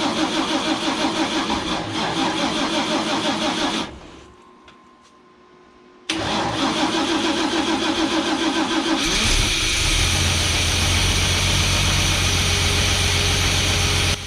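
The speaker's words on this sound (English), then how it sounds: "Okay, luckily it still runs." A Toyota FJ40 Land Cruiser under restoration, its engine running loudly, cutting out briefly, then starting again and settling into a steady run with some revving; no talking.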